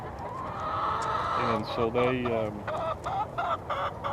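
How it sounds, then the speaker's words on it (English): Isa Brown hens, reddish-brown laying hens in a pasture chicken tractor, clucking and squawking in short rising calls close by, with a few spoken words at the start over a grassy outdoor background. "most of your pasture-raised eggs today are hens that are these, what they call the Isa Browns, the reddish brown ones"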